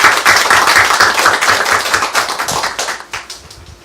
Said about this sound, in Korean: 우리 박수 쳐드리겠습니다.